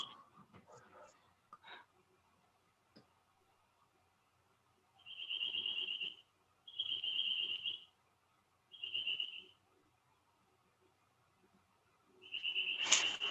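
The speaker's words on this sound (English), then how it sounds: "It might be birds in my garden." Birds call outside in a garden, heard through an open window in four drawn-out, shrill bursts separated by short pauses and fairly clear and close, with a few faint earlier chirps and some muffled background noise.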